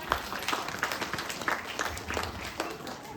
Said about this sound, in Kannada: ಈ ಸಂಸ್ಕಾರಕ್ಕಾಗಿ ನಾನು ಆ ಹಿರಿಯರಿಗೆ ಮಗದೊಮ್ಮೆ ಈ ಮಕ್ಕಳೆಲ್ಲ ಚಪ್ಪಾಳೆ ತಟ್ಟಿ ಗೌರವಿಸಬೇಕು ಅಂತ ಕೇಳ್ಕೊಳ್ತೇನೆ.